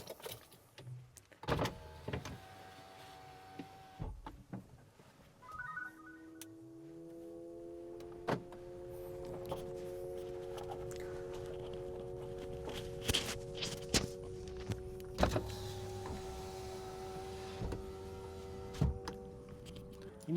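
Maxus T90EV electric pickup emitting its low-speed pedestrian warning sound, a faint sustained electronic hum with steady tones rising in pitch, alongside intermittent clicks and ticks in a quiet setting.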